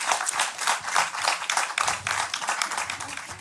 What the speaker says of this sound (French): on applaudit David Belliard.